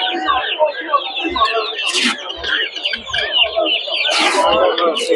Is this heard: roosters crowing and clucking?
yes